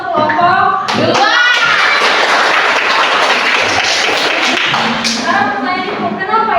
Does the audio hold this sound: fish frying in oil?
no